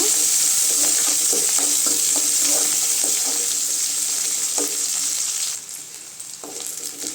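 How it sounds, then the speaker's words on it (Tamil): Shallots and curry leaves fry in hot oil in a pan for chow chow kootu, giving a loud, steady sizzle with light stirring taps that drops down to a quieter crackle near the end. "கறிவேப்பிலை அடுத்து சின்ன வெங்காயம் கட் பண்ணி போட்டுக்கலாங்க வெங்காயம் நல்லா செவந்து வருதுங்க"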